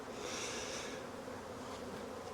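Honeybees swarm around an opened Demaree hive with a dense, continuous buzzing drone, steady and close throughout with no talk.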